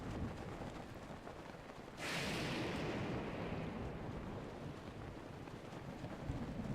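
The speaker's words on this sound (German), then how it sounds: "Donner und Blitz, das ist überhaupt kein Witz" Thunder and rain in the video game Zelda Breath of the Wild, a steady downpour hiss that swells abruptly into a loud, sustained rumbling roar partway through, with no talk.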